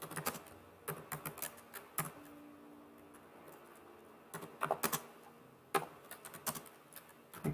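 Quick bursts of keystrokes on a computer keyboard as terminal commands are entered, clicking in uneven clusters with short pauses between, close and fairly quiet with no voices.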